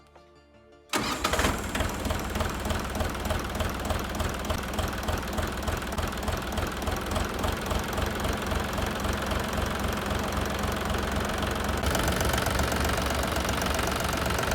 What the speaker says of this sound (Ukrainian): давайте послухаємо тепер, як працює наша паливна апаратура